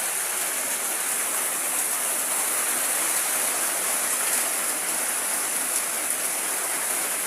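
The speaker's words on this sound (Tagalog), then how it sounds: "Basta malakas ang ulan, ganyan kalakas ang tulo." Heavy typhoon rain in Zamboanga, Philippines, pours steadily and drips through leaks in a house roof, a dense, continuous hiss of water with no pauses, fairly loud and close throughout.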